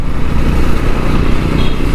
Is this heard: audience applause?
no